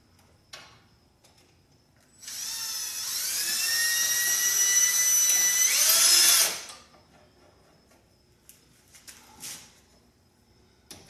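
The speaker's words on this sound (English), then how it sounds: "maybe I want a drill for this" A power drill runs during electrical conduit installation for an Atmor Thermopro electric tankless water heater. It gives one continuous, close whine of about four seconds that climbs in pitch and then cuts off, with quiet room noise before and after.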